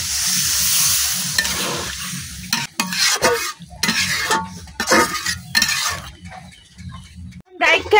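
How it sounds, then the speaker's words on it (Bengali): Water poured into a potato and taro curry in a pan: a hissing sizzle at first, then broken bursts of stirring and liquid sloshing, with occasional clatter of a utensil against the pan, close up. "এখন দিয়ে দিচ্ছি পানি।"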